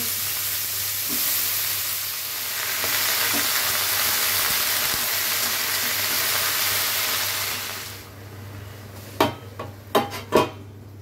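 Spinach, potato and eggplant hit a hot pan and sizzle loudly and steadily for several seconds; the frying then drops back, and a few sharp clinks of a utensil against the pan follow.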